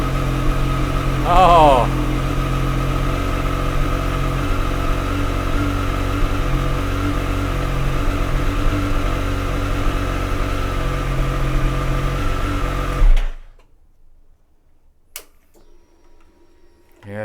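A Triumph motorcycle engine starts and idles loudly and steadily at close range, then cuts off abruptly into near silence. A person briefly exclaims.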